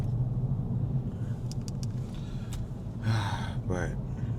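Steady road traffic rumbles around a moving car, a continuous low drone with passing vehicle whooshes; brief voices and short sounds break in near the end.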